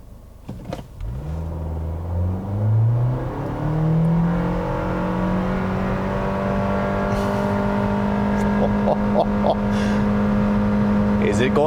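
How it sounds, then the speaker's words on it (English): A 2022 Nissan Kicks SR pulls away from a stop at full throttle with the transmission in sport mode, its engine droning up in a steady, strained rise that holds a long, even whine, heard from inside the cabin. "I'll put it into its sports setting for the transmission, and we'll just floor it from a stop here."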